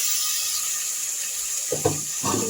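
A small splash of water is poured into a pan of fish while cooking, two short pouring bursts near the end over a steady background hiss.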